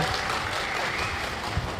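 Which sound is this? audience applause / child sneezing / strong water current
audience applause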